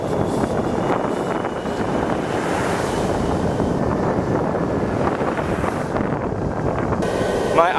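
Steady wind roars across the microphone on the Baltimore-Annapolis Trail, a loud, continuous rushing buffet that never lets up.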